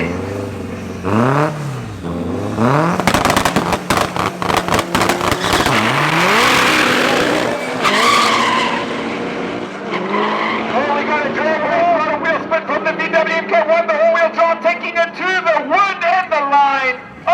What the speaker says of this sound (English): the yellow Golf is going up against the Audi S3